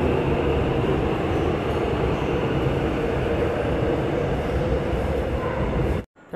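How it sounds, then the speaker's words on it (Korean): Suin-Bundang line train pulling into Taepyeong station, a loud continuous rumble of wheels and motors heard from close by, holding steady before cutting off abruptly near the end. "저를 태평역까지 무사히 데려다준 35177 편성 열차 정말 감사해요."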